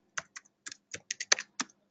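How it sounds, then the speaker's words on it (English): Typing on a computer keyboard while entering accounts into QuickBooks accounting software: about eight close, crisp keystrokes in an uneven rhythm over two seconds, quiet and with no talking. "I can just start typing it in."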